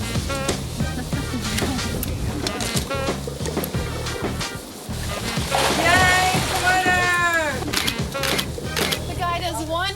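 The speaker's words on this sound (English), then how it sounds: "I'm gonna go swimming in this cold water." A man plunges into cold water for a swimsuit photo shoot, loud splashing and sloshing with people talking and calling out over it throughout.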